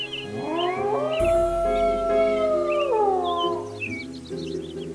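A jackal in an animated folk tale lets out a long, wavering howl that rises and falls, with other howls overlapping it at moderate loudness.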